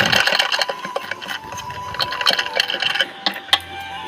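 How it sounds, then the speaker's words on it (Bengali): A sewing machine stitching the sleeve of a black cloth garment, a close, busy run of rapid clicking and a steady mechanical hum with a few sharper knocks toward the end. "এই যে হাতাটা সেলাই করে নিচ্ছি"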